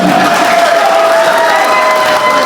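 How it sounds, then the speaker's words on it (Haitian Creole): Loud, dense applause from a large crowd, steady throughout with a few cheers mixed in. "nous avons demandé un gros applaudissement pour Techno qui est là."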